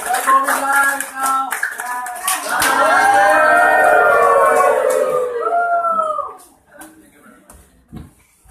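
A large audience at a Papua New Guinea business opportunity presentation cheers and claps loudly, with whooping, howl-like voices building into a sustained roar that fades toward the end.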